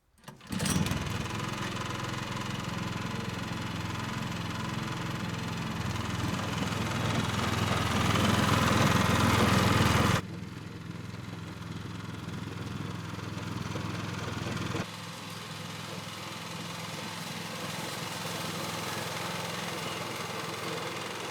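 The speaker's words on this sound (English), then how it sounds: "So what we'll do, we'll pop the box on and we'll go over this grass" A Cobra Fortis lawn mower fitted with a lawn brush cartridge runs over grass. Its motor drones steadily and close by, louder for the first ten seconds, then settles to a quieter even hum.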